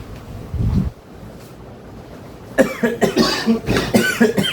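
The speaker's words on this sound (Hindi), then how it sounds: "खांसी बहुत हो रही है भाई मुझे।" One heavy cough comes first, followed by a short quiet pause and then a rapid string of harsh coughs from one nearby person, with a little background rumble.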